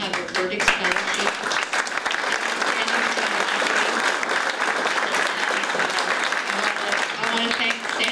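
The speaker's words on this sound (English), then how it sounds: "thank you for giving her a round of applause" An audience at a 20th-anniversary celebration gives a sustained round of applause, dense and steady clapping filling the room throughout without letup.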